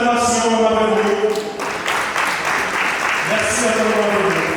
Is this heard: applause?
yes